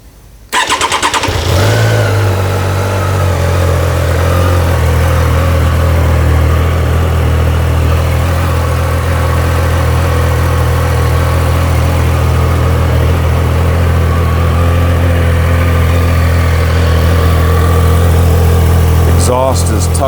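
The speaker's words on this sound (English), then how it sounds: "So now I'll go ahead and fire it up." A 2025 Triumph Daytona 660 motorcycle engine cranks and fires, then settles into a steady, close and loud idle that runs on to the end.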